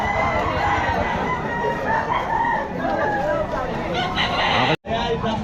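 Gamefowl roosters and hens at a busy pet market: continuous overlapping crowing and clucking from many birds, loud and close, with people talking underneath throughout and a brief dropout near the end.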